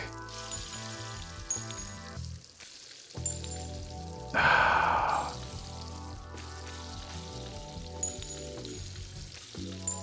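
Food sizzling as it fries on a stove in the video game Arctic Eggs, a steady hiss swelling briefly louder over game music.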